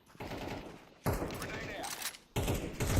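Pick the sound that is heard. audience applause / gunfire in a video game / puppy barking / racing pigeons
gunfire in a video game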